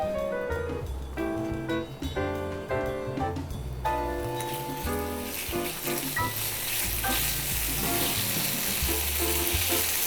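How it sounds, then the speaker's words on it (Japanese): Liver and meat stir-fried over high heat for a liver and garlic-chive stir-fry, a steady sizzle running beneath prominent background music throughout. "ちょっと強火にしてもう中は火が入って柔らかくなったので、お肉の香りだけを炒める工程で入れていきます"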